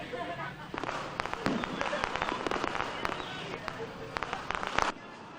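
Firecrackers and fireworks going off in Bocaue, Bulacan at New Year, a rapid irregular string of sharp crackling pops, moderately distant, with talk underneath.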